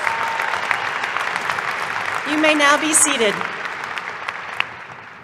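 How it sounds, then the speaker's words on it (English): A commencement ceremony audience applauds its silver graduates, a sustained wash of clapping from a large crowd that swells and then fades as a voice speaks over it through a PA. "A round of applause for our silver graduates."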